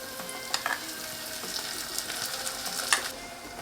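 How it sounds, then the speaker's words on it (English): Clarified butter sizzling with caramelized onion in a pan, a steady soft crackle with scattered sharper pops and a few stirring scrapes, fairly quiet and close with no talking. "As soon as the onion fully caramelized, I'm going to add clarified butter"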